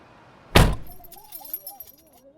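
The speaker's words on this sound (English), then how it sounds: "The scene switches at the closing of the car door." A car door slams shut with a sharp, loud thud, followed by a light rattle of car keys trailing off, staged as sound design for a podcast scene.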